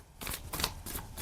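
Tarot cards are shuffled by hand in a few quick riffling bursts, close and crisp, with no talk over them.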